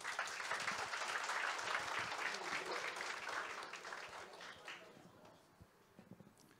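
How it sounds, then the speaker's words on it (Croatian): An audience at a lecture on ChatGPT and large language models breaks into dense, steady applause that tapers off after a few seconds into scattered claps and room quiet. "Aplauz, molim vas."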